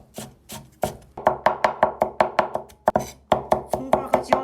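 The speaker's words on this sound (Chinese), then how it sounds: "然后我们呢给它切成细细的姜碎" A knife chops ginger into fine mince on a cutting board, with rapid rhythmic sharp taps, about four per second in short runs, close and crisp with no talk.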